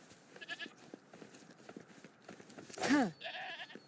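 A goat bleats once in the video game Wuthering Waves, a loud, wavering cry near the end that stands out over scattered quieter game sounds.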